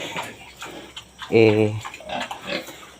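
Pigs on a small pig farm grunt and oink nearby, one louder squealing grunt standing out amid softer snorts and low background noise, with a person talking over them.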